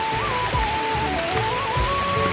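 Rain pours down steadily in a rural Nepali setting, a dense continuous hiss filling the scene with no pauses, accompanied by a sustained tonal hum and low rumbles underneath.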